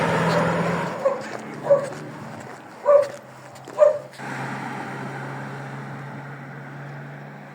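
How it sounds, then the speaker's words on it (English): Ferocious guard dogs at an ancient castle in Albania bark four sharp times in quick succession, fairly close, over a low steady rumble of background noise, then fall quiet. "There were some ferocious dogs"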